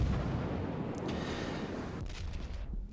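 Naval artillery shells slam into a ship's bow in World of Warships, a heavy, rumbling barrage of low booms with a few sharp cracks, loud and continuous across the whole stretch.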